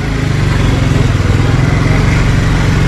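A motorcycle engine putters loudly and close at low revs as it inches through a narrow, crowded bazaar street in Karachi, a steady rough chug throughout.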